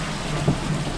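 Rain falling steadily around a car waiting at a fast-food drive-thru, a continuous even hiss of wet noise with no distinct drops and no voices.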